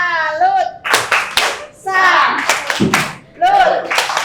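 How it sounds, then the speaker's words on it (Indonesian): Indonesian students perform the rhythmic tepuk salut clap chant in a classroom, sharp bursts of group clapping alternating with children chanting in unison, loud and close. "Kita beri tepuk salut ya. Yuk, tepuk salut."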